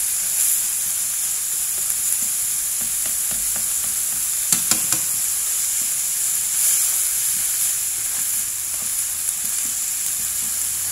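Minced pork shoulder sizzles and crackles steadily in a hot pan during stir-frying, a loud continuous hiss with occasional sharper pops and stirring scrapes, no voices.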